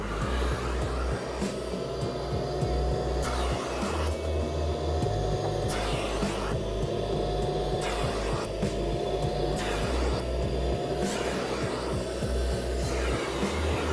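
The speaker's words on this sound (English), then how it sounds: "Then I'm going to turn my vacuum on." A Kärcher Puzzi 10/1 carpet extractor vacuum runs with a steady loud droning hum and a faintly wavering pitch, heard alone throughout.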